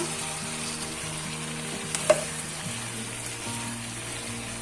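Potato and okra sizzle steadily in a hot pan with masala for aloo bhindi salan, a continuous close frying hiss with a brief stirring clatter near the middle and no voices.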